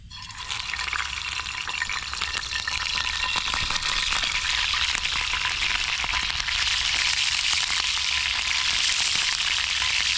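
Meat sizzles in heated oil in a pot over a campfire, a dense, continuous crackling hiss that holds steady throughout with no one speaking.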